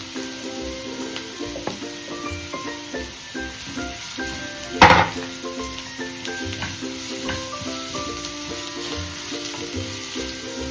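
Carrots and beans stir-fry in a hot pan for veg noodles, a steady close sizzle broken by rhythmic scraping stirs and one sharp metallic clank of the utensil partway through.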